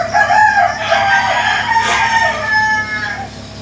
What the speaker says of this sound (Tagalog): Titilaok ng mga manok.